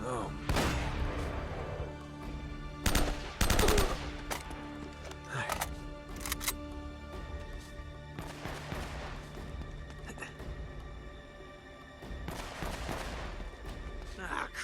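Bursts of gunfire in Uncharted: Drake's Fortune, including a laser gun, sharp loud volleys scattered through the clip, with game sounds and effects in between.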